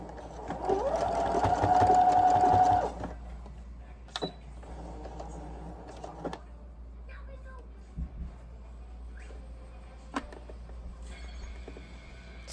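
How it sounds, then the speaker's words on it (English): A sewing machine runs a zigzag stitch on a tee shirt band in one steady, loud burst of about two seconds, followed by quieter handling sounds and brief clicks. "I'm going to take you over to the sewing machine and show you"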